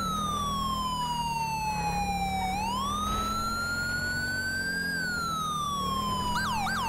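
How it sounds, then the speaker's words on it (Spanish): A loud electronic siren in a police video game wails continuously, its pitch sliding down, then up and holding, before breaking into quick yelping warbles at the end. "se escuchan más sirenas"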